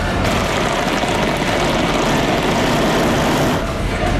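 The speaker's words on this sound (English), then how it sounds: "Let's use the power of this fantastic Mercedes four-wheel drive system and the engine." A Mercedes G-Class four-wheel-drive engine roars loudly while driving off-road, a dense, continuous broadband rumble with heavy noise throughout and no clear gaps.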